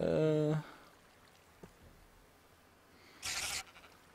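A sheep bleats in Minecraft, a loud wavering cry at the start, followed by quiet ambience, a small click and a short burst of noise near the end.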